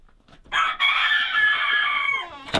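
Chickens in a coop on a snowy off-grid Alaska homestead give one long, loud, drawn-out crowing call close by, with fainter clucks just before and a short rustle at the end.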